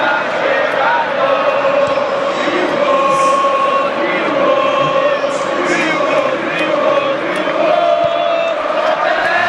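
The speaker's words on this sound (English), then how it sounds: "Crowd calling for him to shoot." Stadium crowd noise from the eFootball PES 2025 video game during an Indonesia versus Brazil World Cup semi-final: a dense, steady roar of massed voices and chanting, loud and continuous throughout.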